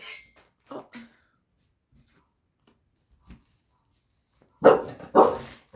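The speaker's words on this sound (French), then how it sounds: "Ah, j'ai des nouveaux voisins, il y a des chiens maintenant aussi." Dogs belonging to new neighbours bark several times, scattered short barks near and far, ending in two loud close barks in quick succession, with no talk over them.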